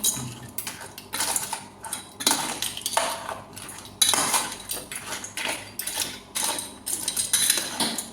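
Crab pieces being mixed by hand with spice paste and mustard oil in a metal bowl for steamed crab, producing a steady run of close scraping clinks and wet squelching pats, with no talk.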